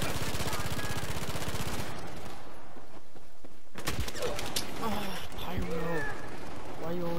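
A video game gun fires in a rapid automatic burst for about two seconds, then a few sharper single shots follow amid quieter game sounds, with a player's voice talking over the later part.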